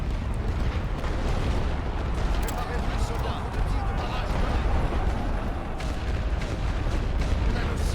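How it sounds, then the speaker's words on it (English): Artillery shelling pounds machine gun positions in The Great War: Western Front, a steady rumbling barrage of booms and bursts that fills the whole stretch without pause, with talk over it. "I'm just going to keep pounding these machine guns with artillery"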